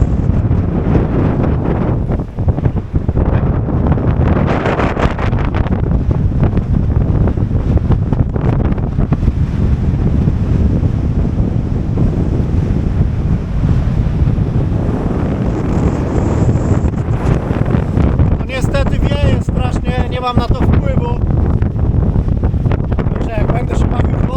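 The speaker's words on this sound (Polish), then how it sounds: "nagle jest taki skok powietrza i tego wiatru" Strong seaside wind buffets the microphone in a constant loud roar, with surf and a faint voice beneath.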